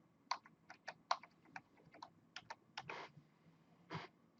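Keys tapped on a computer keyboard, mostly J and K, in an irregular run of crisp, close clicks with short pauses and a couple of heavier presses.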